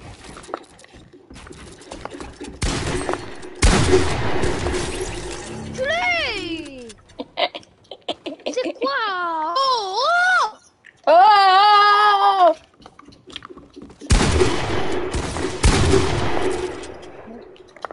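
Rapid gunfire bursts out in loud clusters of shots, first in the early seconds and again near the end, with warbling, whistly vocal sounds in between.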